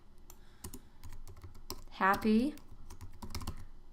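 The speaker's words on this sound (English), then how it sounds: "I'm going to start typing happy, oops, I have it in caps lock" Fingers tap out text on a computer keyboard in quick, irregular close clicks, with a brief spoken word in the middle.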